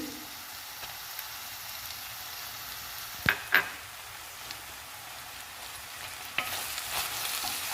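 Ginger garlic paste frying in a pan for a carrot and capsicum curry, giving a steady soft sizzle with a couple of brief stirring clatters, fairly faint and close.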